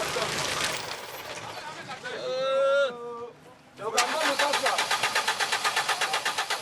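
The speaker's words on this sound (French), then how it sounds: "Le moteur ne veut rien savoir." A truck engine on a forest road in Gabon cranks repeatedly without catching, a steady rapid chugging of the starter after a brief pause, loud and close.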